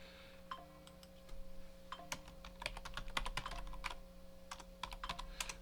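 A Google search is typed on a computer keyboard: quick, uneven clusters of close key clicks over a quiet, steady electrical hum.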